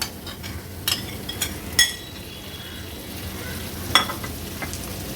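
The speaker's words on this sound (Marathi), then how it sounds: "कोलब्या आता अगदी व्यवस्थित ह्या मसाल्यामध्ये आपण परतून घेणार आहोत" Small prawns sautéed in onion spice paste give a soft background sizzle, broken by a few sharp clinks and scrapes of a metal spoon against the pan, close by, with no talk.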